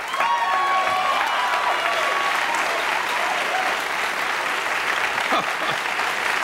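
Studio audience applause at a 1984 Johnny Carson late-night talk show taping, a dense, steady wash of clapping that fills the room for several seconds at constant loudness, with a few whistles and faint crowd voices mixed in.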